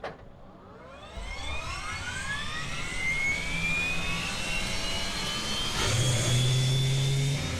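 Twin jet engines of an Aerobask Eclipse 550 business jet in X-Plane 11 spool up, a rising whine climbing steadily over a deepening roar, loud and continuous with a second surge near the end.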